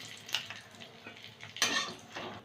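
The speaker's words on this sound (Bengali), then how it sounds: "ফোড়নটা একটু ভেজে নিলাম" Whole spices, bay leaves and dried red chillies frying in mustard oil for a rice-and-potol dish, with faint sizzling and a few soft scrapes and clinks of a utensil against the pan.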